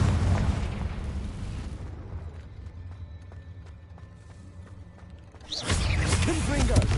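The fire-blast spell Confringo explodes in the wizarding game Hogwarts Legacy: a heavy booming burst at the start fades into quiet, then a second loud blast erupts near the end, with voices talking around them.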